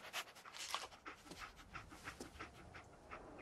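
Dogmeat, the dog companion in the Fallout 4 video game, pants quickly and rhythmically up close, with short breathy huffs repeating steadily throughout and a faint whine near the start.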